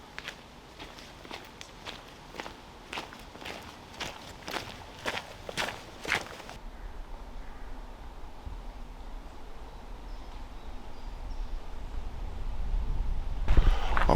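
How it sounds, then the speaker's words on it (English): Footsteps crunching along a track through mature woodland in the Dinham Valley, Monmouthshire, a steady walking rhythm of close, distinct steps for several seconds that stops, leaving quiet outdoor ambience with a low rumble near the end. "I'm walking through the Dinham Valley now"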